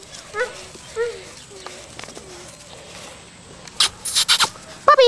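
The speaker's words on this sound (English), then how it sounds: "There they are. Here's one. Puppies." Several puppies whimper and yip in high, wavering cries close by, followed by a few louder sharp barks and scrabbling near the end, with no speech over them.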